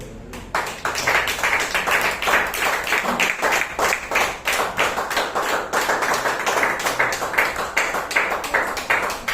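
A church congregation claps for the Lord during a sermon, with dense, steady applause and quick overlapping hand claps filling the room from start to finish at a fairly loud, even level.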